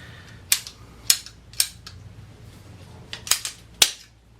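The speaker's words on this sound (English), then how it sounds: "we're going to cut us a 16-inch piece" A 16-inch length of plastic pipe is snipped with a cutter during a sink plumbing job: six sharp, close clicks at uneven intervals, three spaced in the first second and a half and three more near the end, with quiet between them.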